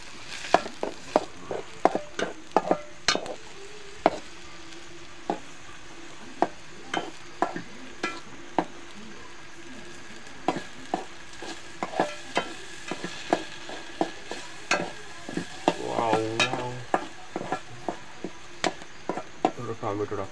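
A pot of village chicken curry being stirred, with sharp, irregular clacks and scrapes of a utensil against the pot over a low sizzle; a voice is heard briefly.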